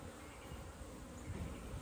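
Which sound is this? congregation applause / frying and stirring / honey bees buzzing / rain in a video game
honey bees buzzing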